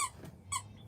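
A dog's squeaky toy, pulled from inside a plush dinosaur, gives two short, sharp squeaks about half a second apart, close and fairly quiet.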